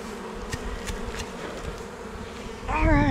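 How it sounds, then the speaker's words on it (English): Honeybees buzz continuously close by around a hive, a dense humming drone with brief louder passes, and a voice begins speaking at the very end. "We still got a ton of bees flying around."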